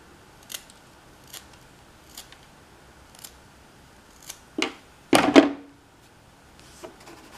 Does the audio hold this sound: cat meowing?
no